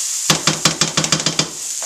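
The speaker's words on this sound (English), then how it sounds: "Saute's coming along rather nicely with the onions and the garlic." Onions and garlic sautéing in a hot pot, a sizzling hiss broken by a quick rhythmic run of about nine utensil clanks against the pot, close and loud, then the sizzle trailing on alone.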